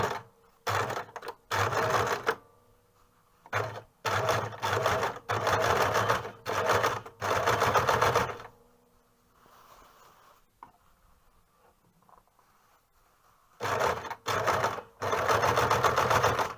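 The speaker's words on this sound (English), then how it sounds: "Now I will sew the top stitch on the bottom of the mantle." Sewing machine top-stitching a narrow seam along the bottom of a hood mantle, in several short bursts of fast, close rattling stitching separated by quiet pauses, one longer gap holding faint handling noise.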